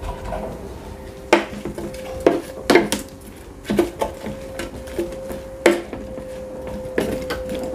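Sausages, potatoes and onion are stirred in a metal air fryer basket, giving repeated sharp scraping clanks at an uneven rhythm close by, over a steady mechanical hum.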